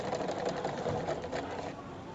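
A sewing machine runs at a reduced speed and stitches after its bobbin case repair, a steady mechanical whir with rapid needle pulses, close and alone.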